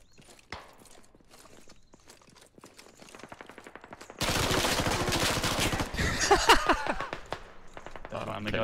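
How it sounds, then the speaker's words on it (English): Automatic gunfire in the tactical shooter game Squad, a sustained loud rattling burst of rapid shots starting midway and continuing to the end, preceded by quieter footsteps and scattered distant shots. "The machine gun."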